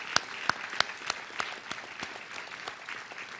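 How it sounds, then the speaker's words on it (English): At a Northwestern Health Sciences University commencement, an audience gives student speakers a fading round of applause, with a few loud close claps standing out over softer, thinning clapping. "One more round of applause for our terrific student speakers."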